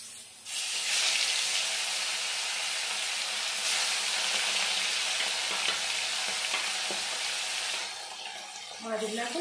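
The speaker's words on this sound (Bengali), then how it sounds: "এখন মাছগুলো ভেজে নেব।" Koi fish frying in mustard oil in a hot wok, with a loud, steady, close sizzle that runs almost the whole time, a few soft knocks, and a brief easing near the end.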